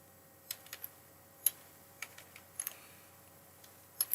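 Faint, sparse keystrokes clatter on a computer keyboard while a game name is typed into Microsoft Access, coming as scattered single taps and short quick clusters over a quiet room hum.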